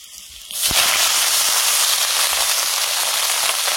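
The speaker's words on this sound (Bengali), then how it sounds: "এদিকে কড়াইটা গরম হয়ে গেছে, সর্ষের তেল দিয়ে দিলাম, মাছগুলো ভেজে নেব।" A sudden loud burst of hot-oil sizzling and spitting as fish hit hot mustard oil in a wok, then a dense, steady crackling hiss of frying.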